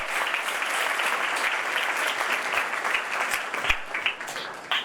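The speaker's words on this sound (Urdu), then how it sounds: "آئے دوسرے آدم کے لیے تالیاں بجائیں گے۔" Church congregation clapping together in steady, sustained applause, many hands at moderate distance filling the room for several seconds, with a few sharper claps near the end.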